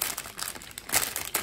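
A plastic bag of Lego Classic 11016 pieces being opened: continuous close crinkling and crumpling of thin plastic, with brighter rustling bursts partway through, no talking.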